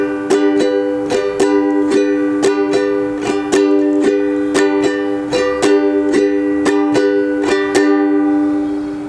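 Ukulele strummed in a steady repeating pattern of thumb upstrokes and a first-finger downstroke, bright plucked chords ringing close and clear with no talking.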